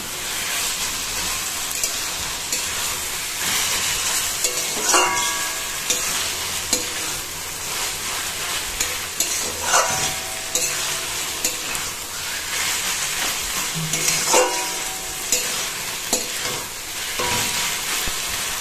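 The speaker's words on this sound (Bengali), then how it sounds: "ভালো মতন এবার এটা ভাজা ভাজা করব।" Hilsa fish head and taro leaves fry in a pan with a steady sizzle and hiss, while a spoon scrapes and stirs at intervals, giving sharp clacks every few seconds. The sound is close and loud, with no one talking.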